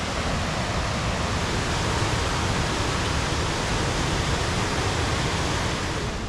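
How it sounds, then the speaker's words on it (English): Steady, broad rushing roar of Low Force waterfall on the Pennine Way, a constant close wash of falling water with no voices over it. "That's a very nice waterfall."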